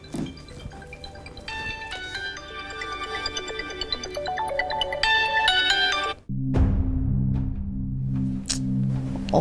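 A mobile phone ringing with an incoming call in a Bangla TV drama scene, a loud, bright melodic ringtone playing alone that shifts to a lower repeating tune partway through.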